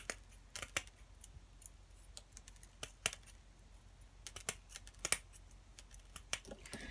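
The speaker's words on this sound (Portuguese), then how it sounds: "Então, vamos cortar aqui o excesso" Scissors trim excess black screen mesh while a garden trowel is decorated as a craft project. Sharp, separate snips and clicks come at an irregular pace in a quiet room.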